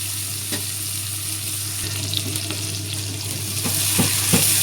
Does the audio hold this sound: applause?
no